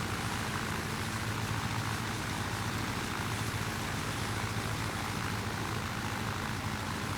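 Propeller engine of a Grumman Duck amphibious biplane in Microsoft Flight Simulator 2020, a steady loud drone with a low rumble and broadband roar holding constant throughout, no talking.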